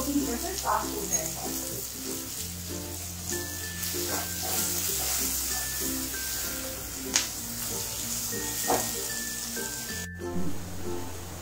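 Onions frying with salt in a pan, a steady close sizzle with occasional stirring scrapes and pops, continuous and fairly loud throughout with soft background music.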